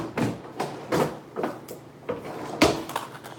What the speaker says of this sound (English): she's just opening all types of drawers